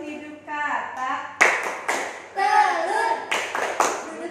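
In a primary school classroom, a group of third graders chants while clapping together in a hand-clapping game. The claps come as several crisp, loud group bursts between the chanted phrases, close and full.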